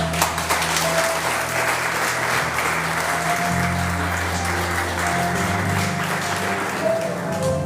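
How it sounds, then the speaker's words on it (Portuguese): A church congregation claps steadily and loudly for several seconds, a dense wash of many hands with a low hum and some voices underneath. "Essas palmas podem ser melhor para Jesus."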